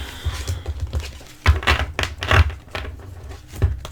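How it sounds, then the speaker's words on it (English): A deck of oracle cards is shuffled by hand, a run of crisp tapping, riffling clicks in uneven bursts, close and fairly loud, with no voices. "I shuffled these off camera, but just doing it once on camera for good measure"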